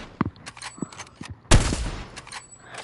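Fortnite pistol gunfire: a few small, sharp pops early on, then one louder burst around midway with a ringing decay. There is no talking.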